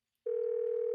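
A single steady telephone tone from a toy orange-and-vanilla donut phone sounds abruptly after a moment of silence, holding loud and close for under a second with no talk.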